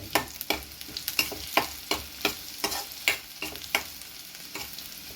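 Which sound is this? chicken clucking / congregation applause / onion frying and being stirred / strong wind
onion frying and being stirred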